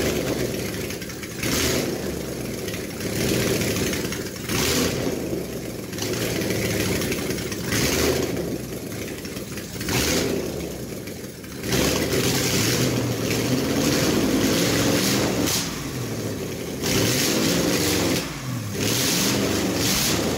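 The engine of a home-built car pieced together from random parts runs on a test run, a loud, steady rumble nearby with repeated revs rising and falling over about twenty seconds.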